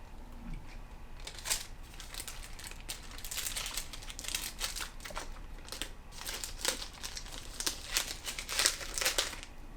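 A plastic snack package wrapper being peeled open up close, with crinkly, crackling bursts and rustles coming in irregular clusters that grow busier toward the end, fairly quiet.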